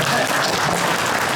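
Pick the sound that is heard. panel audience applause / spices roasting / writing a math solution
panel audience applause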